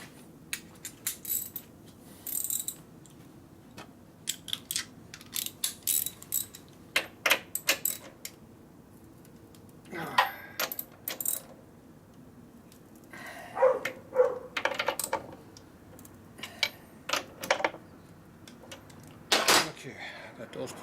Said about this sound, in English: I'm going to torque down the tranny now.